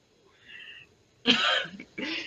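A woman coughs: a faint, muffled start followed by two loud, harsh coughing bursts close by, heard alone in a quiet room.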